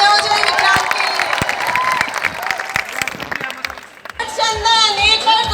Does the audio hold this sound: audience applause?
yes